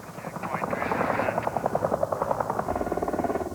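A military troop-transport helicopter's rotor beats in a rapid, steady chop, loud and close, with engine whine underneath.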